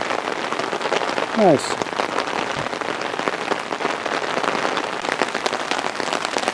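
Steady rain falls outdoors on a Christmas evening, a dense even hiss of drops on surfaces throughout, with a man's brief remark over it.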